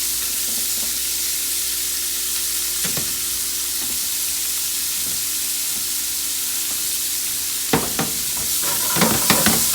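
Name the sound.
Holy Trinity vegetables sizzling in pan for jambalaya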